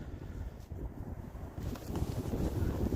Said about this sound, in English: Got a little bit of wind, but that ought to handle it no problem.